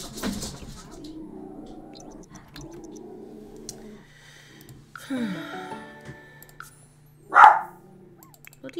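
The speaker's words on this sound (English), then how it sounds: "Bloody dog." A dog barks once at middle distance, a short loud burst standing out near the end after a stretch of quieter household noise and faint background sounds.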